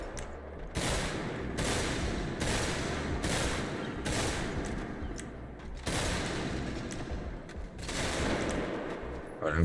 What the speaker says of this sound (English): that musket shoots real nice